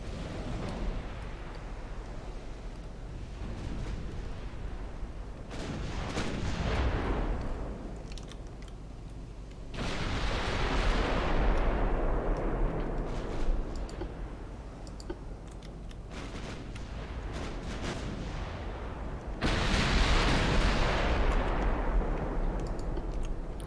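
Battleship secondary guns firing in the naval game Ultimate Admiral Dreadnoughts, several booming salvos with long rumbling decays, spaced a few seconds apart amid clicking.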